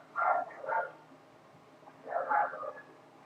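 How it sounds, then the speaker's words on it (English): A couple of dogs barking indoors, two short bursts of muffled barks and yips separated by a pause, moderately distant and fairly quiet. "Sorry, that's my dogs. They're being annoying."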